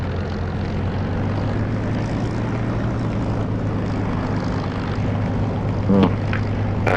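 A propeller aircraft engine drones steadily as the plane taxis toward a runway in the DCS flight simulator game, a constant loud hum with a brief radio-like blip near the end.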